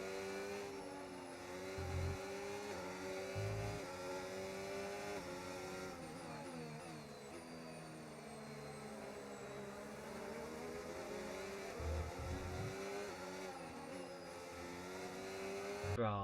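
F1 race cars at Spa in the F1 25 video game, engines whining steadily throughout with rising and falling pitch sweeps as cars accelerate and shift, loud and continuous.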